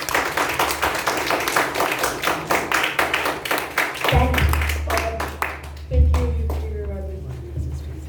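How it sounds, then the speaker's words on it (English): Clapping from an audience at a youth leadership programme speech session, brisk individual claps fading out as a brief thank-you is spoken and low tones and taps follow. "Once again, let's give her a round of applause."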